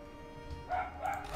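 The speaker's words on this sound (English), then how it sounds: "Dog's being particularly barky today." A dog barking in the background during a game session, two or three short muffled yips and barks in the second half, moderately loud against a low steady hum with no talking.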